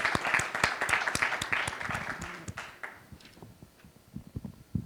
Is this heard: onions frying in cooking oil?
no